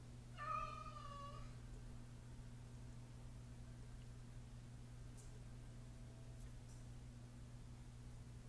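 A house cat meows once, a short wavering cry standing out clearly against a steady background hum and hiss, followed by quiet room tone.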